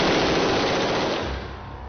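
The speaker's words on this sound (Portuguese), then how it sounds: "O policial atira com 3 armas." A police officer fires an assembled generic rifle at a police shooting range in Rio, a dense loud burst of rapid automatic fire that rolls on and then fades into echoing decay.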